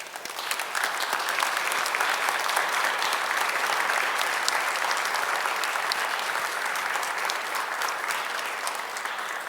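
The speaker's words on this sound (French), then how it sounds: "Tu mérites un bon applaudissement." Mourners at a funeral give sustained applause, a dense, even wash of many hands clapping at steady loudness for nearly ten seconds, with no talk over it.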